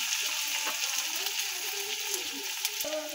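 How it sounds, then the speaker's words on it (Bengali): Onions fry with a steady hiss in a pan, accompanied by light scraping and a few soft clinks. "পেঁয়াজগুলো ভাজা হয়ে গেছে।"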